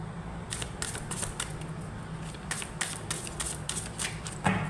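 Tarot cards being shuffled by hand, giving repeated soft riffling bursts in an irregular rhythm, close and fairly quiet, with no talking.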